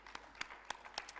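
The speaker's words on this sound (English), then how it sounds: "A big round of applause for Zenia." Sparse, faint applause from an audience at a plenary session in a hall, a handful of scattered claps in quick succession.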